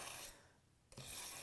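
A knife blade drawn through a sharpener groove, a raspy scraping stroke at the start, a quieter gap, then another grinding pass that continues to the end, close and alone.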